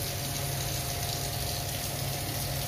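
Water from an overhead storage tank runs out of a concealed wall tap in a steady, loud gushing stream that holds constant without a break, close by, with no talk.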